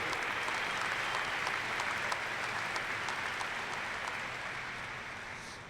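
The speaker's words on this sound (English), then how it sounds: "let us applaud and acknowledge our family and friends for being there" A commencement crowd at a college graduation ceremony applauds, a broad sustained wash of clapping that gradually fades toward the end, with no voices over it.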